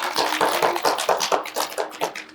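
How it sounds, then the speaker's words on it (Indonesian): A workshop group applauds at a public speaking session, with quick irregular hand claps from a small room of people, close and moderately loud, and no voices over them. "Tepuk tangan untuk kita semua"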